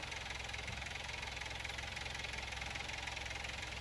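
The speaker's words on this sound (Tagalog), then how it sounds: "Pero ayaw namin pumunta doon kasi iba yung tunog ng makina nyo." A car engine idling unevenly during an automatic transmission fluid flush, a steady low rumble with a slight surging wobble, continuous and close, with no talk.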